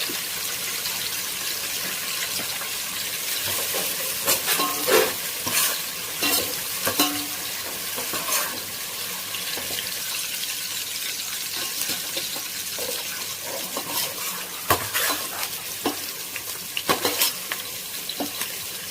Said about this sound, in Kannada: ಬ್ರೌನಿಶ್ ಆಗೋವರೆಗೂ ಫ್ರೈ ಮಾಡ್ಕೊಳ್ಳಿ.